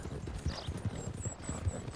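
Several horses, including a White Arabian, a Chocolate Roan Dutch Warmblood and a Perlino Andalusian, gallop in a timed race, their hooves clip-clopping in a steady, rapid rhythm throughout.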